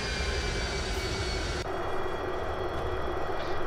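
Avro Vulcan jet engines in the X-Plane 11 flight simulator give a dense, steady roar with a high whine, loud and continuous, shifting slightly in tone partway through.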